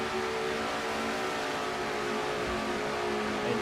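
Race cars accelerate around the Michigan oval in a racing video game, a steady droning engine roar with layered tonal whine holding at constant loudness throughout, no voices.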